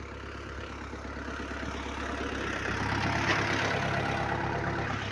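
A FORTE RD 404 tractor engine runs near the microphone with a steady low throb that grows slightly louder partway through, and no talking.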